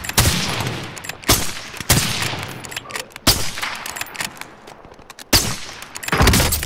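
Gunfire in the Call of Duty Modern Warfare video game rings out as a string of sharp, loud shots and short bursts at irregular intervals, with quieter battle noise between them.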